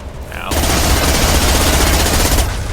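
Dense, sustained heavy gunfire from a video game firefight, a loud continuous rattle of rapid shots that bursts in abruptly after a brief quiet moment and holds steady for about two seconds.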